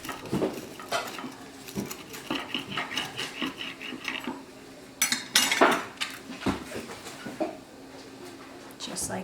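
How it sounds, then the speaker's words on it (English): A knife clinks and scrapes against a plate while cutting through a grilled cheese sandwich, with a series of sharp clatters and a louder burst midway and a voice speaking in between. "So I'm just gonna cut the grilled cheese sandwich."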